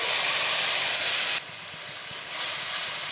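Ginger-garlic paste and spices mixed in water hit a hot frying pan with a loud, steady sizzling hiss that drops sharply partway through, then rises again.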